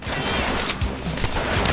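Gunfire in Call of Duty: World at War during co-op play, a dense loud barrage of overlapping shots and blasts with a few sharper cracks standing out.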